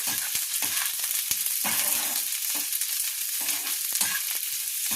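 Sliced onions stir-fry in a hot pan with a steady bright sizzle, broken by repeated scraping and clacking strokes of a spatula as they are tossed; no voices.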